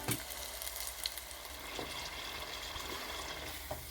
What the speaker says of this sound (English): We've got our onion rings crumbed and we're just deep frying.